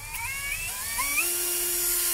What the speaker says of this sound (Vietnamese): Cái khoan thế hệ mới này nó chạy rất là mượt anh em ha.